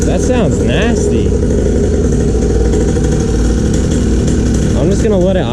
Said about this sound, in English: I'm just gonna let it idle for a little while.